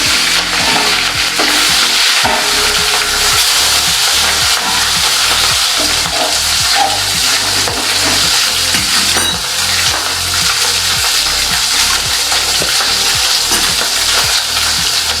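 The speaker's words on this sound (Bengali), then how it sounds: "মাছগুলো ভেজে নেবো।" Fish fry in a pan with a loud, continuous sizzle, while a utensil stirs and scrapes the pan in repeated strokes.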